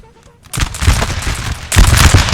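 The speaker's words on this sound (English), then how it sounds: "it's glorious seeing a volley from the grenadiers of the line" Line grenadiers fire a musket volley in the Napoleon Total War Borodino 1812 battle: a brief quiet pause, then a loud ragged crackling volley of many shots, followed by a second heavy burst of booming fire with distant battle noise.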